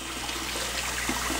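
Running tap water pours steadily as a child washes hands, a continuous close rush of water with no voices over it.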